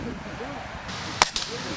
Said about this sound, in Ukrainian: школярі мали можливість постріляти з пневматичних гвинтівок